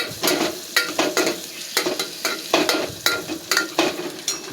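Raw avarekalu (field beans) and potato frying in a pan, with a steady sizzle and repeated sharp scrapes of stirring roughly every half second, close and fairly loud with no talking.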